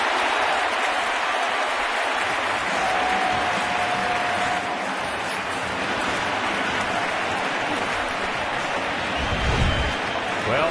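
Baseball crowd at a Rangers playoff game roars in a sustained, dense wave of cheering and clapping, with a commentator talking over it.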